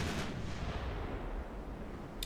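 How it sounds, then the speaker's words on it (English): A 9-inch naval gun firing in a warship video game: a single deep boom at the start that rumbles on and slowly fades, with a faint click near the end. "That 9-inch gun did a number on that cruiser."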